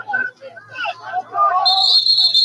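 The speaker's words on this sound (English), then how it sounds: "And we'll get a whistle." Someone commentates quickly on a lacrosse game over a quiet background, then a sharp, sustained referee's whistle blast for a timeout rings out and holds to the end.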